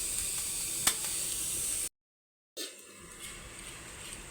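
Onions fry lightly on a hot tawa griddle, giving a soft, steady sizzling hiss that cuts out briefly and then resumes faintly.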